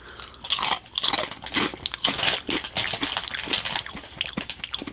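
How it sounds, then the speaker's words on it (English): Small, Ritz-like crackers crunch up close, bite after bite in quick, crisp, irregular bursts with wet chewing between them and no talking. "Oh, these were like little crackers."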